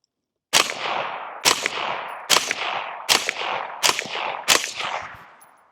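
Six suppressed rifle shots fired through a CMMG 556K suppressor on a CMMG rifle, each a sharp loud crack with a decaying tail, spaced roughly a second apart in a steady rhythm, close and alone.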